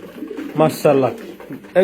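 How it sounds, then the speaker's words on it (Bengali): King pigeon cooing in short, close, throaty phrases, a couple of bursts with brief pauses between, fairly loud against light background noise. "আমাদের কিং কবুতরটা দেখেন"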